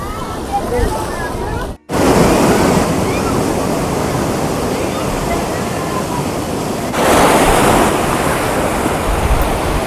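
Loud sea waves roll and wash continuously at high tide on Digha beach, mixed with heavy wind buffeting and a brief dropout early on before the roar returns.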